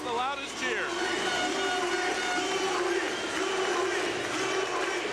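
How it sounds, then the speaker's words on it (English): Sustained, loud crowd cheering and roaring as a team raises a championship cup, a dense wall of voices continuing without pause. "Raises the cup and draws perhaps the loudest cheer."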